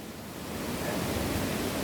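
A waterfall in Saint Lucia, the Canaries falls, pours in a steady, dense roar of rushing water, close and continuous with no pauses.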